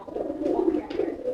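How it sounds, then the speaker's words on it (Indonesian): A fantail pigeon coos nearby in soft, low, throaty rolling notes, a short burst repeating close to the listener. "Merpati kipasnya."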